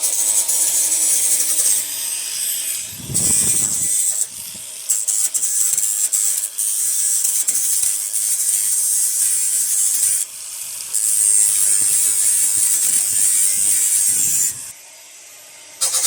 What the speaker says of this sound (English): Using a grinder, a fine one, just clean it all up. Get all the rough edges off.